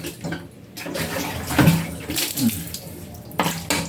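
Water pours over a dog during a bath, a steady splashing gush that swells and falls in a few surges, close by and moderately loud, with no talk.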